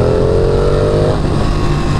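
A 2018 Ducati Panigale motorcycle engine hums loud and close, its pitch rising steadily before it settles into a steady droning run.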